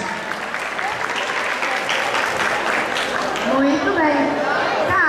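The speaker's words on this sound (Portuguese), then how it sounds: "E uma salva de palmas para o Biel" An audience applauds a cosplay contestant after the judges' verdict, a steady wash of clapping with a voice speaking over it toward the end.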